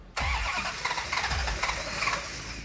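A 1969 Hemi Charger replica V8 cranking over on the starter, a steady rhythmic churning that starts abruptly, is close and loud, and never fires.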